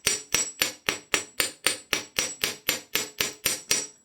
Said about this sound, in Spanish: lo recomendable es tomar la cabeza del martillo. Comenzar a dar pequeños golpecitos